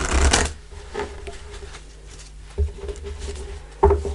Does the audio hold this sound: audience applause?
no